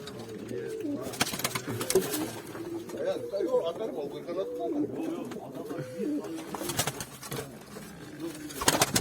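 Pigeons cooing continuously in soft, rolling calls in a coop in Antalya, close by, with faint chirps and some rustling mixed in throughout.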